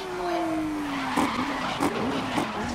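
A race car in the GRID racing video game brakes hard with a long falling tire squeal, then skids through several short screeching bursts over a steady engine drone.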